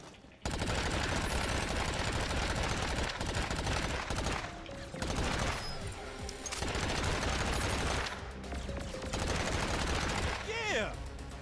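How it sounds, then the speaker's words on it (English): Fully automatic SMG fire in the video game Agents of Mayhem, loud dense bursts of rapid shots in several long strings broken by brief pauses, with game sounds mixed in. "SMG is fully automatic, small magazine, short range"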